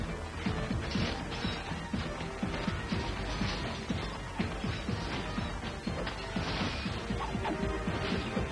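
Glass smashing during a fight scene in the movie Ultraviolet, dense repeated crashing and thwacking impacts that stay loud and busy throughout amid the action soundtrack.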